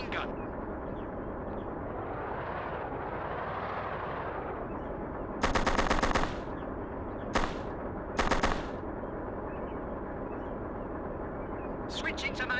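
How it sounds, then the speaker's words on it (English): Machine gun fire in the Xbox game Operation Flashpoint during the Resistance campaign: a couple of loud, short bursts crack out over a steady rumbling battlefield background, with a few fainter pops near the end. "Machine gun!"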